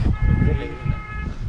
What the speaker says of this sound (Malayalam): ഹോണടിയുടെ പാടാ, ഹോണടിയോട് ഹോണടി.